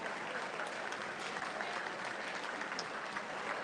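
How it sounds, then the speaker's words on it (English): An audience at a county fair livestock sale claps steadily for a champion, a dense, even wash of applause heard from within the crowd with no pauses. "Let's give them another big round of applause for that fine champion."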